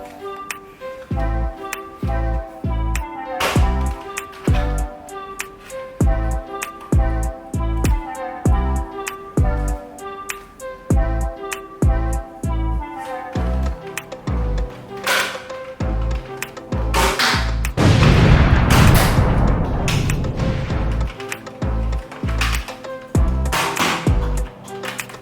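Nerf Tricera-blast blaster firing elite darts, a series of sharp clacking shots and mechanical priming thuds in a loose repeating rhythm, close and loud, with a busier rattling stretch partway through.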